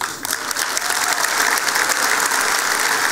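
A large audience on a Women's Club stage bursts into loud, dense applause to welcome performers, sustained and even throughout with scattered whoops.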